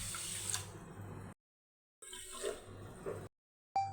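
Water pours from a tap over washed millets (ragi) in a vessel to cover them for soaking. Two close, moderately loud splashing streams are separated by a silent pause, and a brief third burst comes at the end, with no one speaking.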